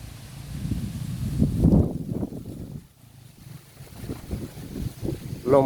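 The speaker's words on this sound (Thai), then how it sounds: "ค่อนข้างแรงเลยครับ ลมวันนี้ตอนเช้า" Strong early-morning wind at a durian orchard behind the Phu Phan hills, a steady blustery rush with gusts that swell and fade, loud and close to the microphone, alone without talk.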